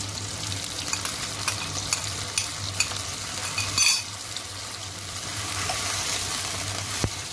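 Chilies frying in hot oil in a pan while being stirred, a continuous bright sizzle with scraping stir strokes and a brief louder burst midway, no talking.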